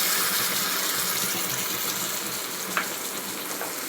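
Gravy sizzles and fries in hot oil with ginger garlic paste, a dense, steady crackling hiss close up, with a faint utensil tap near the end.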